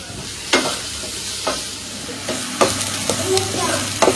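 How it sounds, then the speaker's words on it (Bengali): Vegetables and soya chunks stir-fried with garlic in a pan, a steady sizzle broken by repeated sharp scraping strokes of a spatula about once a second, close and fairly loud, with no talking. "ভেজে নিয়েছি আমি সব সবজিগুলোকে"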